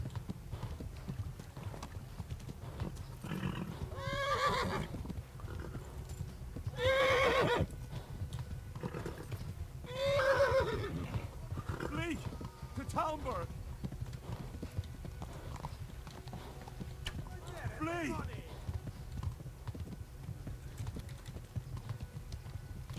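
In the Kingdom Come: Deliverance video game, a horse's hooves clop steadily at a gallop while it lets out several loud, wavering neighs and whinnies across the stretch, over a constant low rumble with faint clicking.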